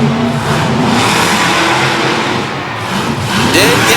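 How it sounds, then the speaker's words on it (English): Bigfoot monster truck at a monster truck event in Radford, Virginia, its engine roaring and revving hard in sustained surges with rising whine near the end, loud and close, with faint talk underneath. "Up next, Christian Norman out of Pacific, Missouri, driving Bigfoot."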